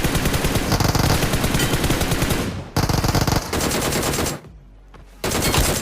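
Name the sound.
Uzi submachine gun firing in a video game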